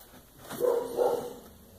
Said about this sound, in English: my dogs are going a little nuts